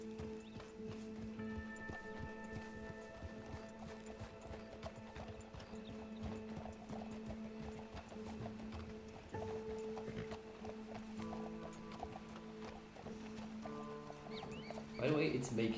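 Horse hooves clip-clopping at a steady gallop in Red Dead Redemption 2, an even rhythmic patter running the full length under game music, with a brief whinny and louder clatter near the end.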